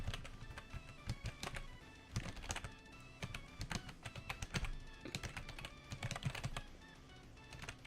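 Rapid computer keyboard typing during a vtuber typing game, with bursts of quick key clacks separated by short pauses, close and fairly quiet, with no talking.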